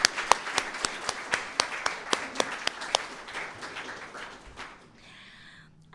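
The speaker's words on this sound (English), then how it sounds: "just one more round of applause, I hope, for all of our students and their accomplishments" Applause from an audience at a university English department awards ceremony, a steady run of distinct claps that gradually thin out and fade toward the end, with a faint voice starting as it dies away.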